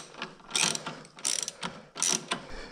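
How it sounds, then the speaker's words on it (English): Hand ratchet tightening bolts on a Yamaha RD50 motorcycle, a few close bursts of quick clicking separated by short pauses, with no talking. "Let's get these bolts started."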